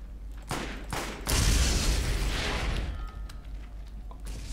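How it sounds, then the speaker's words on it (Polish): Crystals burst in a cave in Borderlands, a run of sharp pops and crackling blasts giving way to a loud, rumbling explosive roar that fades into scattered snaps. "Tylko dziwi mnie to, czemu te kryształki tak wybuchają."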